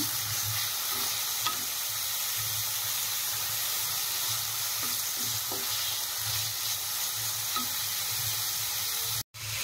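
Steady crackling sizzle of carrots and potatoes frying in a pan for chowmein, with occasional stirring scrapes and taps, briefly cutting out near the end.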